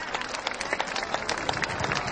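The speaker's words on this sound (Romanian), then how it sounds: "Aplauze!" Audience applause at a Romanian folk festival evening as the director of the Călărași Cultural Center is invited on stage, scattered clapping with some crowd noise, steady and moderately distant, without speech.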